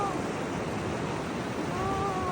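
Sea waves washing in at a shore with clear water, a steady broadband surf roar that fills the whole clip, close and continuous with no breaks.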